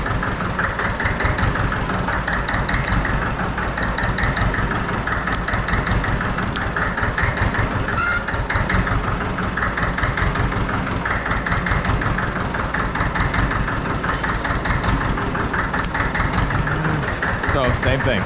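A farm engine runs at full throttle while hydraulic pressure relief valve pressure is being adjusted, giving a loud, steady, rhythmic pulsing drone with knocking beats, sustained throughout.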